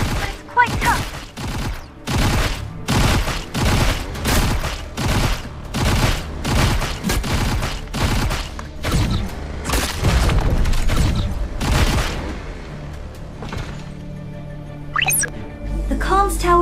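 Heavy blasts in the RF Online Next video game as a comms tower is destroyed, a loud rhythmic series of booming impacts about every half second, then fading rumble and a few lighter tones at the end.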